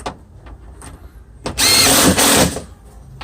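A power tool tightening screws on a Hyundai Accent door during a latch and window switch replacement, one loud, close whirring burst of about a second after a few light clicks and handling noises.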